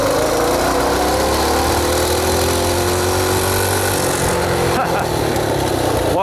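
A custom-built medium-displacement motorcycle engine revs hard and loud, a steady dense roar with rising pitch held close up, its tone shifting near the end while a man briefly calls out over it.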